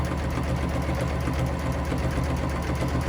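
A sewing machine runs continuously while free motion quilting a mini stacks quilt, a close, steady, even hum with a fast rhythmic needle chatter throughout.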